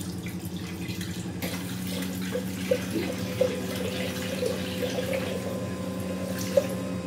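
Ultra pure water running into a lab beaker to rinse it, a continuous close trickle and splash over a steady low hum, with a few brief clinks.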